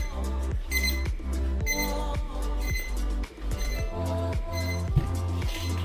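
An XREXS large digital wall clock alarm sounds continuously in a steady, rapid repeating pattern of beeping tones with a pulsing low thump, close by and fairly loud.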